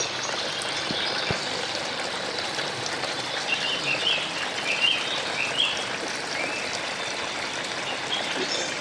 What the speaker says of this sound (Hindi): और चिड़ियों का कोलाहल और आवाज़ इस नेचुरल ब्यूटी को वास्तव में इनहेंस कर रही है।